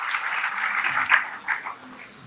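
Audience at a poetry recital breaking into applause, a soft continuous patter of clapping hands with a few louder bursts, moderately near and fading toward the end.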